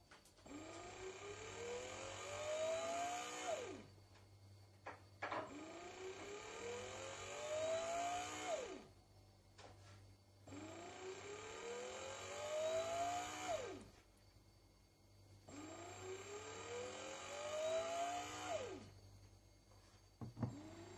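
A Tefal Pain Doré bread maker runs its kneading motor in repeated bursts, a quiet whirring hum that rises in pitch, cuts off, pauses briefly and starts again, four cycles in a row with no one speaking.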